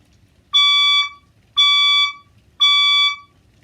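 A science room fire alarm sounds during a test, giving three loud, evenly spaced electronic horn blasts, each about half a second long, with quiet gaps between them.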